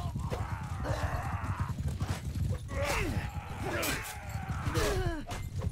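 Horses in the Mount & Blade II Bannerlord video game during a battle, with hooves clattering and several whinnies rising over a dense, continuous din of combat noise.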